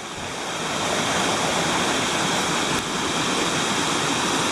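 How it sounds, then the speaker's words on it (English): A small brook rushes beside a hiking trail on Killington in Vermont, giving a steady, loud broadband wash of flowing water with no voices. "That is a nice little brook."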